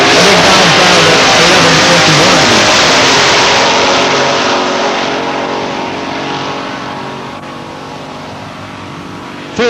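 A big Dodge drag race car roars down the track in a 1992 Labour Day race at London Motorsports Park, a loud, sustained engine howl that slowly recedes into the distance.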